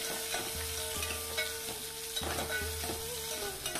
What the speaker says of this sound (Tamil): வெங்காயத்தை வதக்கி எடுத்துக்கோங்க.